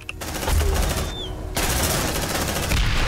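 Sustained automatic gunfire in Aliens: Dark Descent, rapid loud bursts laying down suppressing fire, cutting out briefly midway before resuming as a continuous rattling stream.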